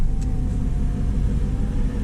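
An Audi R8 engine idles with a steady, low, purring rumble that holds close and even throughout, with no voices over it.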